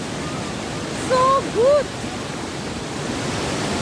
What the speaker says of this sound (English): That is waterfall.